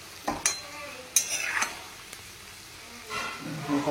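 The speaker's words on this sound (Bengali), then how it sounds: "এবার এই পাটটাও ভাজতে দেবো হালকা হালকা করে।" Bora fritters frying gently in a pan after being turned, a low, steady sizzle with a few sharp clicks and scrapes of a utensil against the pan, close by and fairly quiet.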